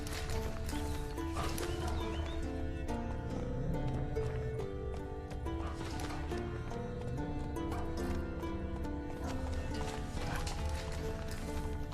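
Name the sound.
horse Roach ridden in The Witcher 3 video game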